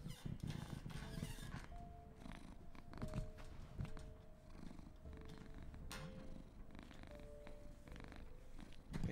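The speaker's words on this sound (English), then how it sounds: "let me see if I can get some cat noises on stream" A cat purrs close to the microphone in a low, continuous rumble that carries on steadily throughout, with a faint background hum running underneath it.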